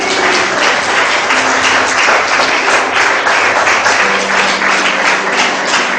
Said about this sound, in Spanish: Den un fuerte aplauso a Cristo.